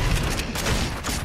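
Grenades going off in a Fortnite match, a quick cluster of booming blasts and crackling bursts packed into a second or so, loud and close with no talk over them.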